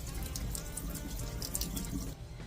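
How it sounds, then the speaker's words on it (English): Tap water runs steadily from a kitchen sink faucet over the roots of an orchid being repotted, a continuous close splashing flow that cuts off near the end. "we can just gently run her under some water"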